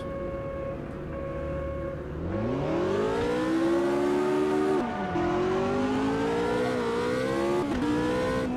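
A pack of race cars accelerates in the sim racing game Automobilista 2, a loud, steady engine whine that climbs in pitch through the gears, dipping briefly at each shift and then rising again, with no voices over it.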